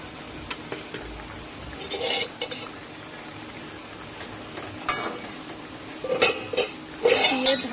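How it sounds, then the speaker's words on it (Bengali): Fish go into a pot of simmering curry broth, with metal spoon and pot clatter in scattered bursts over a low bubbling background, close by. "এখন আমি মাছগুলো দিয়ে দিচ্ছি।"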